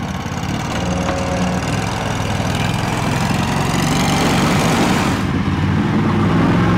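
An Argo amphibious all-terrain vehicle climbing through heavy timber, its engine running with a loud, steady, close drone and a rough low throb that holds throughout.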